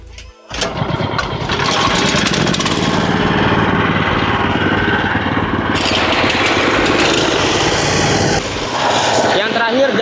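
FTL650, FTL820 and FTL610W cultivator engines start up and run together outdoors, a loud, busy small-engine roar with clattering mechanical texture that holds steady, and voices can be heard beneath it.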